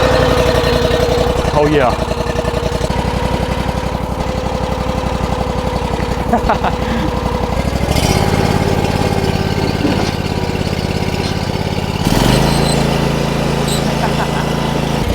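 A trencher's small engine runs warmed up at a steady, loud idle, a low rumbling drone with a shift in pitch partway through, while a voice briefly speaks over it.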